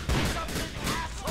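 A few loud sawed-off shotgun blasts from Grand Theft Auto IV: The Lost and Damned go off in quick succession, punchy and booming over a noisy background.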